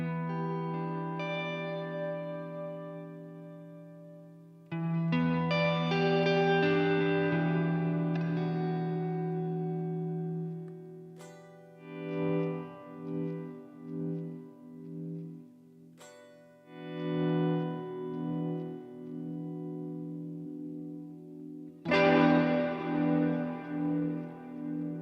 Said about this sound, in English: Because I turned the reverb up to do that, my guitar is now set on ambient.